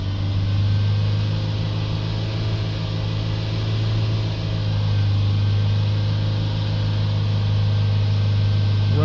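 Diesel car engine held steady at about 3000 RPM during a particulate filter pressure check: a loud, continuous drone with a strong low hum, unbroken for the whole stretch, with no talking.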